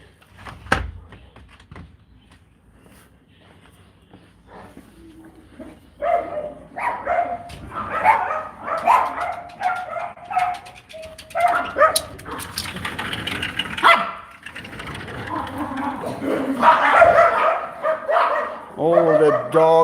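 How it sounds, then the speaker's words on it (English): Several dogs bark and yip in bursts indoors, close and fairly loud, mixed with whimpers and a door sound, with people talking over them at times. "All the dogs."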